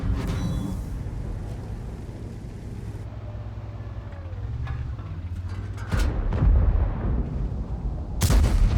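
A T-92 tank gun firing in a tank combat video game, heard as a sharp loud blast near the start and another near the end, with rumbling engine and battle noise continuing between them.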